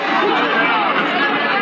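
A crowd of over 100 protesters packs a street in St. John's, Antigua, a steady, close wash of many overlapping voices with no single speaker standing out.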